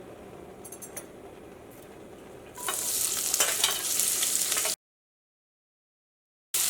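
Onion, ginger and green chili hit hot coconut oil in a pan, breaking into a loud, steady sizzle with light stirring and a faint clink of a utensil, after a quieter stretch, then cutting off abruptly.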